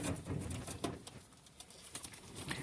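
Short-beaked pigeons coo softly nearby in a loft, with low burbling calls and some light fluttering or shuffling sounds over about three seconds.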